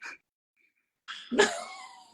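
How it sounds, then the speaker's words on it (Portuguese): A small Pomeranian (Lulu) gives a short yip, then after a pause lets out a sharper, high-pitched bark that trails off, fairly faint and distant. "O meu cachorro não para de latir ali embaixo."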